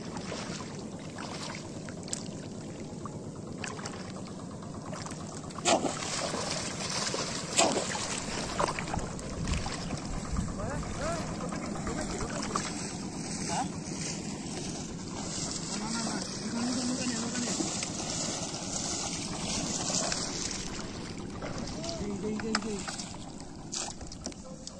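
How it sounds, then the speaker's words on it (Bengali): A wooden boat is hauled through shallow water during a river fishing outing, giving steady sloshing and trickling under almost continuous shouted talk, with scattered knocks and splashes. "নৌকা টানতে নিয়ে আয়"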